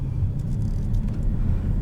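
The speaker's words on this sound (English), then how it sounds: "Let's go ahead and take this thing for a drive." Audi RS7 Prestige from 2014 in dynamic mode, its engine giving a steady loud low rumble from inside the cabin while driving, with no talk.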